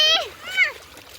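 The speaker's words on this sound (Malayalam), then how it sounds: "അങ്ങോട്ട് തിരിഞ്ഞിട്ട് അവിടേക്ക് വെള്ളം തെറിപ്പിച്ചോ" Water splashes as Kerala friends play in water, with two bright splashes close by and children's voices over them.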